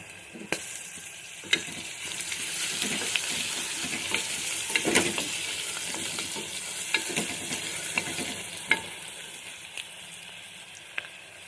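Country chicken curry with turmeric frying steadily in a pan, a continuous sizzle broken by periodic scraping stirs and small pops, close and fairly loud with no talking.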